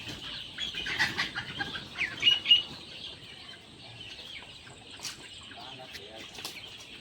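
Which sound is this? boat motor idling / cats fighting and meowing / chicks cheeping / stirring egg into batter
chicks cheeping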